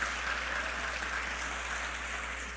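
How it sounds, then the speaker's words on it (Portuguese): A church congregation applauds steadily throughout, a dense, even wash of clapping with no voices over it, holding a constant level for the whole moment. "Se é para ele, aplauda bem forte, aplauda bem forte."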